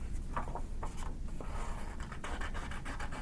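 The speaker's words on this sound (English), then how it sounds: "I'm going to chomp with my scissors around my black line" Scissors snipping through paper up close, a series of short, crisp cuts spaced irregularly against a soft background rustle.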